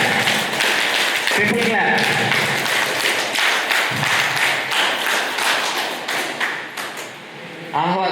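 A college reunion audience in an auditorium breaks into sustained applause, a dense, loud wash of many hands clapping close by, with voices faintly mixed in.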